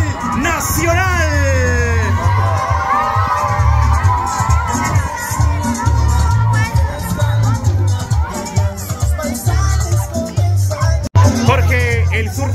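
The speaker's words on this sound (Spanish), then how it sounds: "Esos aplausos para nuestro representante y orgullo, no solo de Ipala, sino que a nivel nacional." A crowd in Ipala, Guatemala claps, cheers and whoops to welcome home a Guatemalan under-20 World Cup footballer, loud and sustained with shouting voices, children's cries and a speaker talking over the din.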